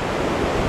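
Pokali waterfall in Okhaldhunga, Nepal, among the country's highest, gives a steady, dense roar of falling water that holds constant through a brief moment, with no voices.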